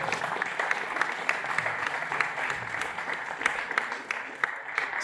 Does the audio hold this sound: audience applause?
yes